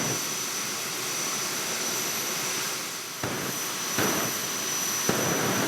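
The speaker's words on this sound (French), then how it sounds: "Et derrière qui est équipé, qui est un réacteur d'avion de chasse qui était monté dans les Fougas Magister." Jet engine from a Fouga Magister fighter plane mounted on a homemade moped-based dragster, a loud continuous roar with steady broadband rush and a few sharp surges or pops near the end.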